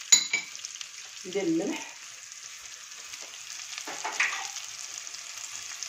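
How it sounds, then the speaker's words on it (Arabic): Sliced onions fry gently in a pan with salt, a soft, steady sizzle running throughout, with a short clatter early on and a few light utensil knocks, close and fairly quiet. "نخليه يتقلى تري بيان"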